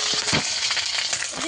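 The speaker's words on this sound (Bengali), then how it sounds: "ফোড়নে কয়েকটা তেজপাতা দিয়ে দেব। ফোড়নটা ভালো করে ভেজে নেব।" Bay leaves hit hot oil for tempering a vegetarian ghugni, giving a loud, continuous crackling sizzle close by, with a few faint clinks of stirring.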